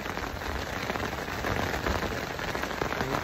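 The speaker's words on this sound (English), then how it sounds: "So you can hear the rain is just really..." Heavy rain from a thunderstorm pours steadily on the Kootenay River during a kayaking trip, a dense, even hiss of drops hitting water and surfaces, close and continuous with no thunder or voices.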